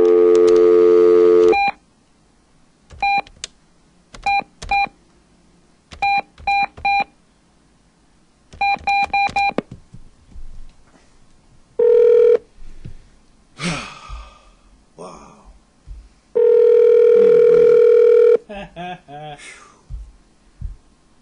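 A phone number is dialed as a run of short, clear keypad tones in quick bursts, followed by longer steady beeps and a busy-style signal, with sighs and voices heard between and over the tones.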